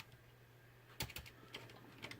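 An IBM model 4810 computer's keyboard is tested with a few quick key taps, faint and irregular against a steady background hum.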